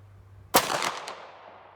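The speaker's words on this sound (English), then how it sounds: "That was a very, very poor shot." A single loud .45-70 rifle shot from an 1885 High Wall with powder-coated bullets: a sharp close crack followed by a rolling echo that fades over about a second, with no talk.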